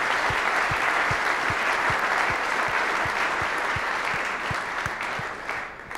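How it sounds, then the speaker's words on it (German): Steady, dense applause from an audience at a talk event on professional football, filling the room for several seconds before tapering slightly at the end. "das ist auch ein Beifall wert"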